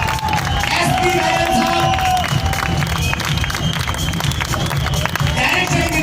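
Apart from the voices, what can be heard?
audience applause welcoming a speaker on stage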